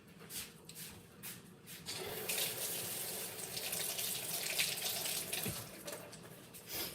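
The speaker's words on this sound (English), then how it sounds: "Let me rinse my hand" A kitchen tap runs as a hand is rinsed under it while cooking, with a few uneven splashes at first, then a steady, close rush of water into the sink.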